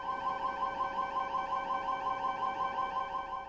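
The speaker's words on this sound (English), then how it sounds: "Make sure you know what the gas alarm sounds like on your rig" A gas detector alarm on a drilling rig sounds continuously, with steady tonal beeps and stacked harmonics pulsing rapidly and evenly at constant loudness for the whole stretch.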